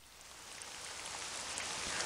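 Heavy rain drums on a roof in the horror adventure game Hayarigami 2, a faint, steady wash of hiss that grows slightly louder, with no voices.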